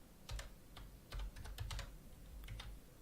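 Quick, irregular keyboard typing with short bursts of clicking keystrokes, close up and fairly quiet, with no voices.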